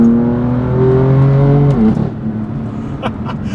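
BMW M4 CS engine at full throttle, a loud steady rising drone that climbs then drops sharply with a gear change, settling into a lower throbbing note.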